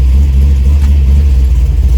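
A 1971 Chevrolet El Camino SS, fitted with a new TH350 transmission and TCI converter, idles in drive at about 1,000 RPM with no throttle, giving a steady, loud, deep rumbling drone throughout.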